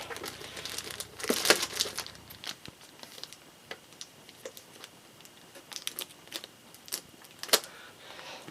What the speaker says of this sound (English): We'll cut open this plastic here.